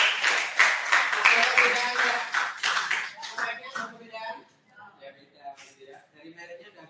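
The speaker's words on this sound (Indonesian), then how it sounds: "tepuk tangan buat Restu." A classroom of students claps for Restu, close and lively for a few seconds, then fades to a few stray claps while voices and some laughter carry on.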